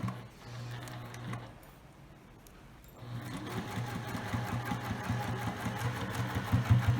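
A sewing machine stitches fabric for a ring bag in bursts. A short run starts, there is a pause of near quiet, then a longer, steady mechanical whirring with rhythmic ticking.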